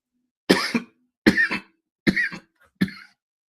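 Four separate coughs, spaced roughly evenly apart, come from someone with a cold during a casual smoking session. Each one is short and close, with quiet pauses between.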